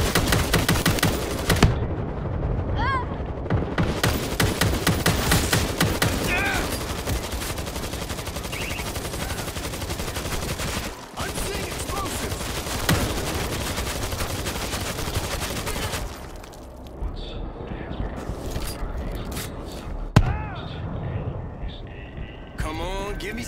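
Automatic turret gunfire in the zombie shooter World War Z, New York chapter, rattling in dense continuous bursts with scattered louder shots, a short lull near the middle, and excited voices shouting over the fight.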